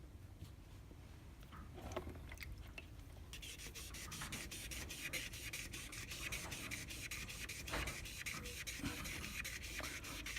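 Ebonite fountain pen body being sanded through the grits, a steady close rubbing and scratching that turns into a fast, regular rasping stroke rhythm after a few seconds, fairly quiet with no speech.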